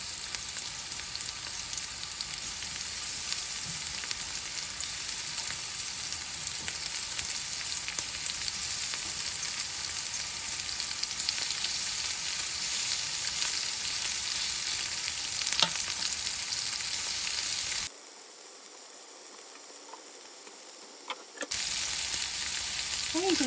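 Shrimp fry in a hot pan with a loud, steady sizzle, scattered pops and a few utensil taps, and a brief quieter gap near the end before the sizzle resumes.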